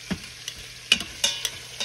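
Oxtails dredged in flour searing in a hot pan, a steady close sizzle broken by several sharp scraping stirs and clinks of a utensil.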